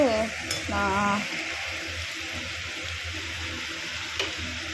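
Mixed vegetables and onions frying for a curry, a steady sizzle with stirring scrapes, a couple of brief tonal squeaks early on and a faint clink later.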